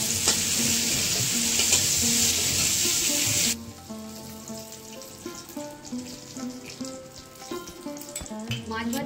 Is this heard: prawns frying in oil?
yes